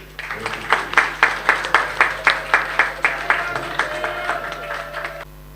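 Applause at a certificate presentation ceremony, regular rhythmic clapping at a moderate distance lasting about five seconds before stopping abruptly.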